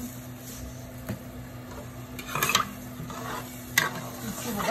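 A pot of okra and lamb stew heats toward a boil, with a soft steady bubbling hiss and a few sharp clinks and stirring scrapes at a close, moderate level.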